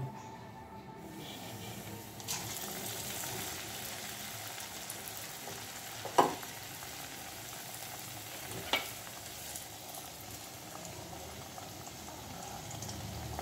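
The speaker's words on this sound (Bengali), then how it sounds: "আমি একটু শুকনো কর্নফ্লাওয়ারে এটা জাস্ট একটু কোট করে নিয়ে তারপরে আমি তেলে দেব" Cornflour-coated marinated chicken fries in hot oil, giving a steady low sizzle and bubbling, with a couple of brief sharper pops and stirring clinks partway through.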